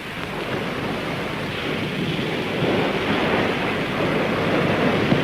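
Heavy surf breaks and rolls onto a seashore in a continuous loud roar of churning water, rising slightly in the second half, with no voices.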